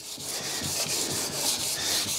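Fine 2000-grit wet sandpaper rubbed over treated car paint on an E46 BMW 330Ci, a steady close hiss of rhythmic back-and-forth strokes sounding alone.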